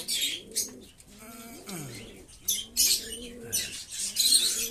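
Pigeons coo in repeated low, rolling phrases while being let out for their morning feed, with bright chirps and rustling mixed in, close by, and a voice speaking faintly at times.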